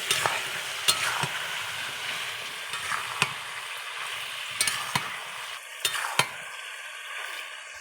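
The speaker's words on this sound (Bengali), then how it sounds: "এই যে লবণ হলুদ দিয়ে আর একটু ভাজা ভাজা করবো" Chicken frying with turmeric and salt hisses with a steady sizzle, broken by sharp scrapes and clicks of a utensil stirring the pan, close and without talk.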